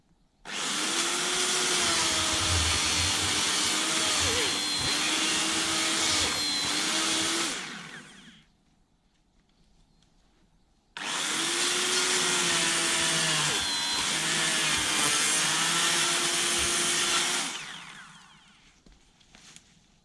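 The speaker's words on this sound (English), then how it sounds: "Wired electric chainsaw." A wired electric chainsaw cuts trees in a garden, its motor whining loudly in two sustained runs of about seven seconds each, separated by a short quiet pause.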